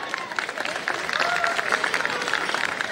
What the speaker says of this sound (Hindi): देखिए वो लोग तालियां बजाएंगे